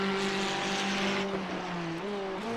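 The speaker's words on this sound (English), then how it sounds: "We'll have a listen to the engine." A race car engine in the iRacing sim at Road America, a loud, steady high-revving drone with pitch that dips and climbs as the car lifts and accelerates.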